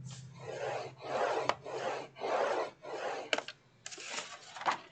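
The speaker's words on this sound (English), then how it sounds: "I'm just going to go ahead and score my 2 by 4 inch pieces on the 2 inch side" Five rhythmic rasping strokes score a 2 by 4 inch wooden piece, each scrape close and fairly quiet, followed by a few shorter scraping passes and a small knock.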